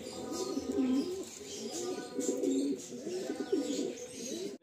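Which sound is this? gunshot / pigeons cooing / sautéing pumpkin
pigeons cooing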